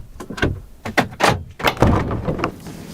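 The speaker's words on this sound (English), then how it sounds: "Try the back door." Van back door tried and opened during a camping trip: several handle clunks and latch knocks in quick succession, fairly close, followed by a louder thud of the door swinging open, no talking.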